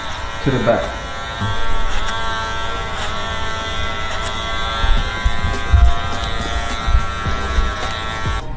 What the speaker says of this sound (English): Continuing the machine over comb